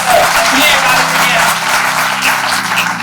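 An audience at a Hindi-language public event gives a loud, sustained round of applause, dense clapping filling the whole stretch.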